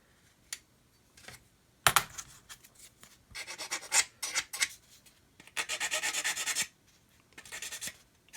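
Sandpaper rubbing along a plastic model kit part to remove moulding flash, heard as close, dry rasping strokes in short irregular bursts with pauses between them and no talking.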